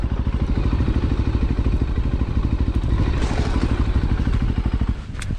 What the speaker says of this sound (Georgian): ძალიან კარგად დადის უგზოობაში ეს მოტოციკლეტი.